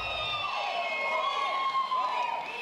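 A cheering, raucous crowd at a political rally for Vice President Pence in Georgia, a dense continuous roar of voices and whistles heard from a distance, without pause.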